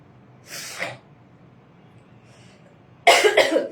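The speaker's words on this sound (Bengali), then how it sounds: "আমি কিন্তু আজকে কাশি দিতেই থাকবো।" Two separate coughs from a woman hosting a live online clothing sale: a short hoarse one about a third of the way in, then a louder, harsher burst near the end, with quiet room noise between them.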